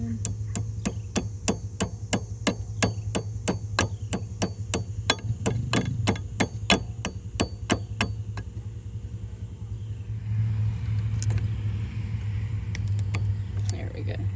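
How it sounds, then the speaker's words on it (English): Steel hammer tapping a cotter pin into the front axle of a Honda Fourtrax 300 4x4 ATV, a steady run of about twenty sharp, evenly spaced metallic taps close up, then stopping as a low engine-like hum continues. "I might have to use the hammer and tap this in some."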